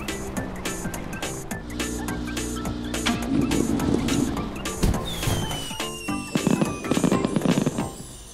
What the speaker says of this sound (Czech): Karel právě viděl ohňostroj.